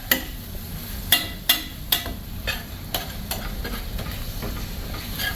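Ground beef sizzles steadily in a pan being deglazed for cowboy chuckwagon beans, a continuous crackling hiss broken by several sharp scraping clicks of a utensil against the pan, close and moderately loud.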